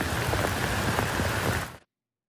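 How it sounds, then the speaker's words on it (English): Heavy storm rain pours down in Ottawa's Byward Market, a dense, steady hiss of drops on surfaces that stays loud and constant before cutting off abruptly. "This is a look at the downpour that we saw early this morning in the Byward Market when storms rolled through the capital."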